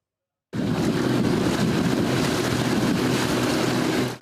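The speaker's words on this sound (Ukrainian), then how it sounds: "Українська Венеція зустрічає гуркотом моторних човнів" Steady loud roar of motorboats on the waterways of Vylkove, the Danube delta fishing town, with a low engine drone and wind-like rush that starts abruptly and holds constant to the end.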